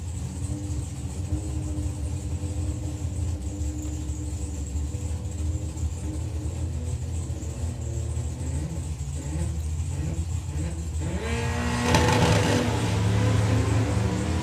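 Drag racing cars launch down the strip at Bug Jam, a continuous loud engine rumble with rising revs, building to a stronger surge of acceleration near the end; no talking.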